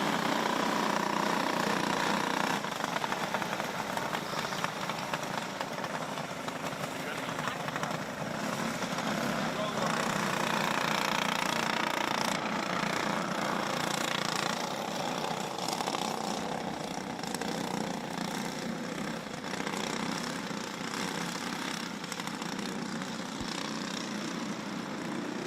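Go-karts race through a 10-lap heat at Forks Karting Speedway, a continuous buzzing engine drone carrying from the track under an announcer's steady commentary.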